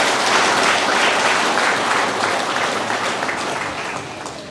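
Sustained crowd applause at a graduation ceremony, dense and loud, fading slightly toward the end.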